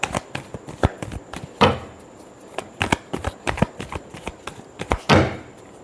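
Tarot cards are shuffled by hand in irregular bursts of papery riffles and soft slaps, close and crisp, with short pauses between them and two fuller, longer sweeps. No voice is heard.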